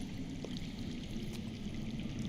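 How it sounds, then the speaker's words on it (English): Underground water flows in the Telltale Game of Thrones video game, a faint, continuous pouring and trickling stream with a soft, steady rush and no voices. "I hear water. From underground."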